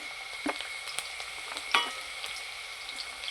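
Chillies, garlic and ginger sizzle and crackle steadily as they roast in a pan for a restaurant-style paneer masala, with occasional sharper pops and stirring clicks over a constant close frying hiss.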